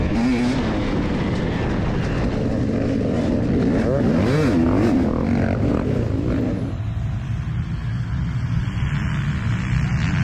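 Several racing motorcycles fire up and roar away together at a dead-engine, stand-behind-the-rear-fender start of an OMRA Fire Mountain GP race in the 40Ex class, a dense, loud wall of engines and wind that thins after about seven seconds.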